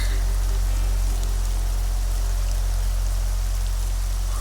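Heavy monsoon rain pours down in a dense, steady roar, loud and unbroken with no voices over it.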